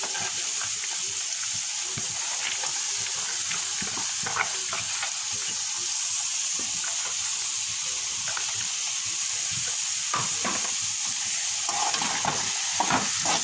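Onion greens and chopped carrot stir-fry for fried rice, giving a continuous close sizzle broken by irregular scrapes and clacks of the spatula against the pan.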